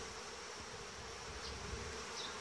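Honeybees in an opened hive hum in a dense, steady drone up close, with an occasional louder buzz of a single bee passing by.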